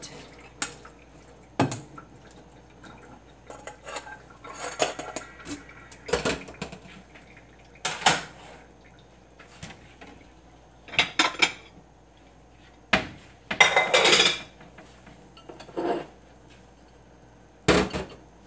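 Cooked pasta is strained and tipped back into a pot while making vegan spaghetti, giving scattered metallic clanks and scrapes of pot and utensils with faint water drips, in short bursts separated by quiet.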